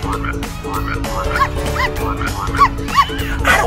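A dog yips and whimpers in short, high bursts through a brief indoor moment at home, fairly close, mixed in with people talking.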